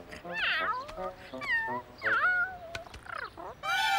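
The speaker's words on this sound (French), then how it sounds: "Salut, petit chat." A cat meows several times, with rising and falling cries, close by, with a soft voice speaking French around the meows.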